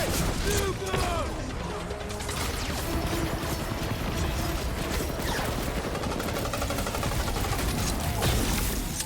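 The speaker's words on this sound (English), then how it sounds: "Incoming! Rocket!" An incoming rocket attack in the Guardians of the Galaxy video game, with dense, continuous explosions, crashes and rapid gunfire-like bursts throughout, loud and chaotic, while characters' voices shout over the battle.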